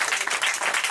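A church congregation claps in praise during a sermon, a dense, lively burst of applause from many hands, close and continuous without a break.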